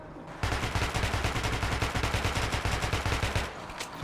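Automatic gunfire in Metro 2033 during target practice, a loud, close burst of rapid evenly spaced shots that starts abruptly and runs for several seconds before easing off.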